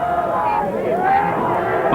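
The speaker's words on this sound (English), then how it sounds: "They're thinking they're cheering for a superstar right now." Wrestling crowd cheering for King Kong Bundy at an ACW show, a steady roar of arena voices and whoops beneath close commentary speech.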